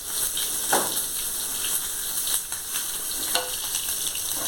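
Cut eggs frying in hot oil for an egg tomato curry, a steady close sizzle with a few sharper crackles and pops.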